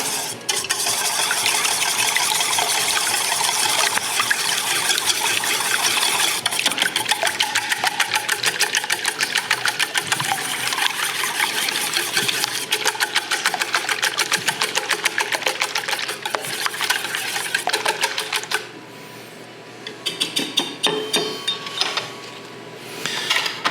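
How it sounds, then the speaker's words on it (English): Eggs with almond and vanilla extracts are whisked together in a bowl while making Italian biscotti, a fast, steady rattle of close clicking that runs for a long stretch, pauses briefly, then resumes. "I'm gonna whisk these together."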